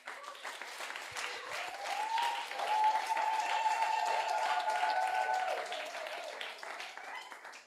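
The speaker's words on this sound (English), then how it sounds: "Clap." Audience applause at a community hero awards event, a dense wash of clapping that swells after a few seconds and holds steady before fading, with a faint voice audible beneath it.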